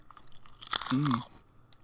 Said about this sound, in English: Anyone want some like nice crisp eating ASMR?